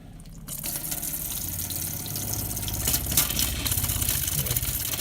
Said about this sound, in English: I can hear the pump going, but it sounds like it's got an airlock.